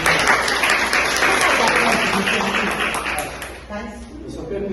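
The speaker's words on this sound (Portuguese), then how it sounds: "que essa salva de palmas seja direcionada a Santo Agostinho" Audience applause at the close of a lecture on Saint Augustine's view of the origin of evil, a dense sustained clapping from a full room that holds steady and then thins and fades near the end.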